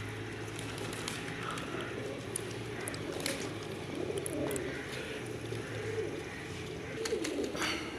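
Pigeons coo steadily in a rooftop loft used for flying pigeons in Pakistan, a continuous low murmur of many birds close by, with occasional wing flaps and faint chirps over a constant background hum.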